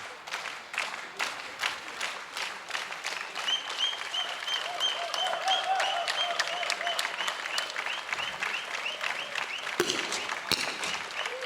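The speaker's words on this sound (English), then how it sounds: "Both are affected from the pressure and the crowd cheering." A home crowd at a men's 50 m rifle prone World Cup final in Beijing claps and cheers steadily throughout, a dense, loud sustained applause with a few whistles rising over it.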